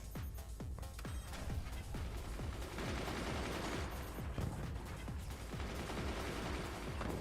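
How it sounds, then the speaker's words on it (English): Flak and mortar launchers firing in the physics-based strategy game Forts, a rapid run of sharp gunshot-like bangs in quick succession, fairly quiet and continuous with no talk over it. "Flak taking out a couple more mortar launchers."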